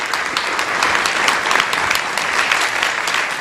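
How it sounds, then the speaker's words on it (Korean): Warm audience applause at a digital economy policy forum, a steady wash of many hands clapping that holds evenly throughout with no talk over it. "권현영 교수님께 따뜻한 박수 부탁드리겠습니다."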